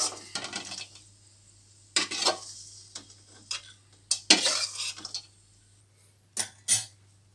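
Metal spoon scraping and stirring roasted dry fruits in a pan as they are scooped out, intermittent clinks and scrapes in separate bursts with quiet gaps, close and fairly clear, no talking.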